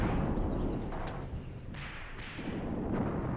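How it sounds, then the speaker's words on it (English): Artillery strikes pound an area in an Iran-Iraq war video game, a dense continuous roar of overlapping blasts with a few sharper bursts standing out, loud and unbroken with no talk. "they are launching all sorts of devastating artillery strikes on this area"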